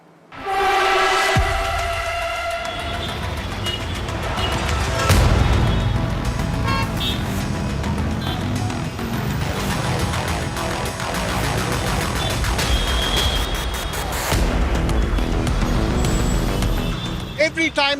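Busy daytime traffic at the ITPL junction in Bengaluru: a steady, loud wash of car and bus engines with scattered horn toots and a hiss of air brakes, voices talking over the street noise throughout.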